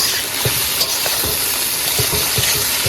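Tomatoes fry in a hot pan with a steady, loud sizzle and hiss, broken by soft, regular stirring knocks.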